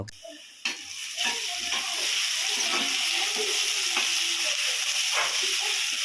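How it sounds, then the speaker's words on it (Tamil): Onions sautéing in a pan for chicken kulambu make a steady, close sizzle and frying hiss, with occasional stirring scrapes breaking through the continuous crackle. "கொஞ்சம் வெங்காயம் நல்லா வதங்கட்டும்"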